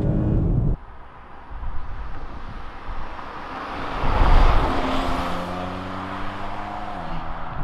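A Volvo S60 R-Design is thrown into a corner with downshifts, the engine note dropping then rising in revving tones that sweep upward and shift, mixed with wind and road noise from inside the car.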